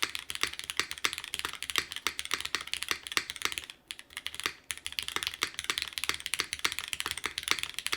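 Typing on an ORI CLS-3//65 top-mount mechanical keyboard: a steady, fast stream of close, crisp keystroke clacks, with a brief pause in the middle before the rapid typing resumes, and no talking.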